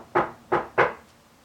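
Three knocks, evenly spaced and hollow, sound close and moderately loud against a quiet background, each one short with a soft decay.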